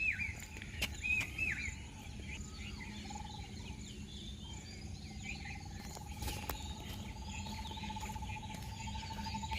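Faint birds chirping outdoors, scattered calls over a soft insect and cricket drone, with one steady whistled note drifting in the background.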